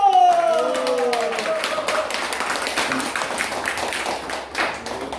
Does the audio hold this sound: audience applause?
yes